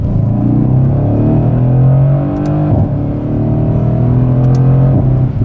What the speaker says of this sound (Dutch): Lijp, hè, dat geluid van die V8.